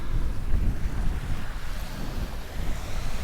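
Surf washing ashore on Lamai Beach, Koh Samui, a steady broadband roar of breaking waves with wind buffeting the microphone, no voices.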